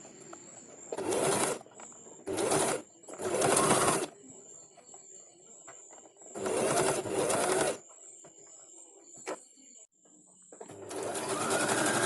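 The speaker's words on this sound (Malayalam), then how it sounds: "അപ്പോൾ നമ്മുടെ ചുരിദാർ സ്റ്റിച്ച് ചെയ്ത് കഴിഞ്ഞിട്ടുണ്ട്." Close, loud sewing machine stitching a churidar top in five separate runs of whirring, separated by quiet gaps where faint background sounds and a steady high tone carry on.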